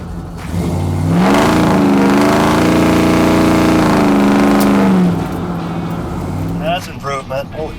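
A 1972 short wide pickup truck's engine revs up and holds a steady, loud drone as it accelerates, then eases off, with rattling road noise near the end.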